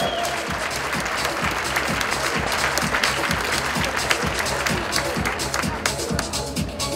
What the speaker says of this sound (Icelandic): Við skulum gefa þeim gott klapp